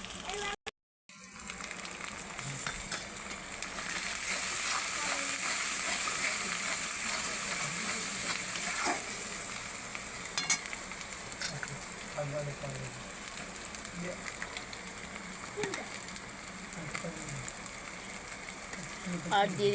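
Ginger-garlic paste with cumin and coriander powder sizzles as it is sautéed in a pan, a continuous crackling hiss after a brief gap at the start, with speech intermittently over it.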